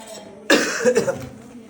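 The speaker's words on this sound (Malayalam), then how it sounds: "ചുമ" A single sharp, close cough bursts out, followed by a brief rough throaty tail, after a short quiet pause.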